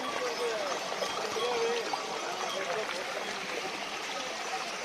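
Crystal-clear glacier meltwater stream on the Kedarnath mountain route, flowing in a steady, broad rush that fills the whole span, moderately loud and continuous without a break.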